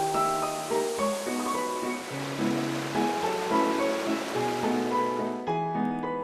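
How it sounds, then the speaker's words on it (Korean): A cool mountain valley stream near Ssanggyesa temple in Hadong, Gyeongnam, rushes steadily, its broad even wash continuing beneath louder melodic music throughout. "매일 아침 시원한 계곡 물소리를 들으며 학교를 향하는데요"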